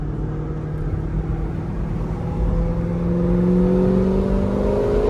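A stick-shift American V8 sports car, either a Corvette ZR1 or a Mustang GT350, revs and accelerates in second gear, its engine note rising steadily and growing louder over a few seconds, heard close with no talk.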